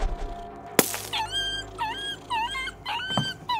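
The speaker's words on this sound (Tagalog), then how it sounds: "Puro aso't pusa lang yung may ingay." Dogs whine and whimper in rising, wavering cries, broken by a couple of sharp, loud barks, all close by.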